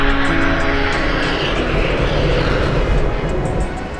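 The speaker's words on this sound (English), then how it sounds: "we'll see two airplanes taking off in formation" Two airplanes take off in formation, engines roaring loudly and steadily, a thick continuous drone that fades slightly at the end.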